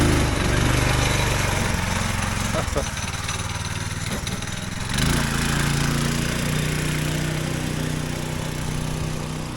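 Small go-kart engine running continuously at a steady, loud idle with slight rises in revs, recorded nearby outdoors, with people talking faintly over it.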